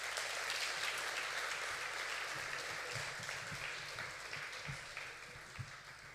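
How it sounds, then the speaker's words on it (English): Applause from an audience at a live performance poetry event, a steady wash of many hands clapping that holds throughout and tapers slightly near the end, fairly distant and soft. "Please give them a huge round of applause."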